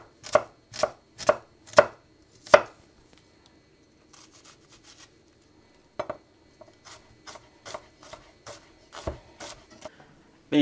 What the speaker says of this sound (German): Und dann schneiden wir die jetzt einfach in möglichst feine